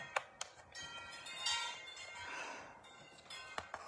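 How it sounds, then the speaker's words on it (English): Wind chimes ring through the open front and back doors of a house, giving faint, irregular metallic tinkles with lingering tones and no talk over them. "can you hear my wind chimes?"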